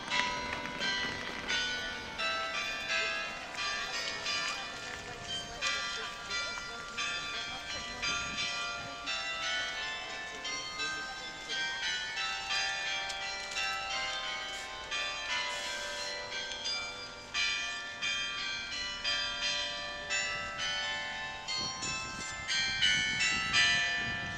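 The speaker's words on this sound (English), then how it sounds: "at various times of the day you can hear the 49 bells of its carillon ringing out across the city" The 49 bells of a church carillon in Porto peal in a continuous tuneful cascade, bright overlapping strikes ringing out over distant city ambience and carrying on for the full length.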